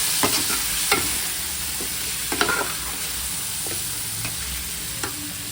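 A spoon scrapes and stirs biryani masala with chicken in a frying pan, giving scattered clinks and scrapes over a soft, steady sizzle, with no one talking.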